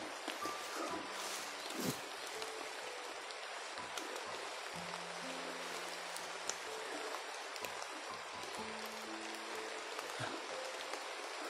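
Soft, steady rain patters on leaves and surfaces outdoors, a quiet wash of droplets with occasional faint tones in the background.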